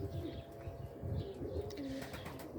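White pigeons, a mated male and female pair, coo softly in low rolling phrases, close by and quiet, with faint chirps around them.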